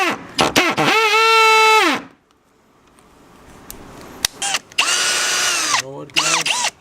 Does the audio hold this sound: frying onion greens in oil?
no